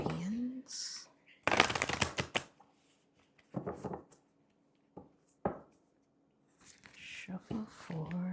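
Oracle cards are shuffled by hand in two quick riffling bursts of dense, crisp slaps, with softer handling rustles in between and a person speaking quietly at the start and end.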